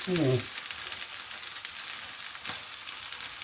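Kedgeree being folded and mixed in a pan, a soft steady sizzle running throughout with a faint scrape near the end, while a brief voiced sound is heard at the start.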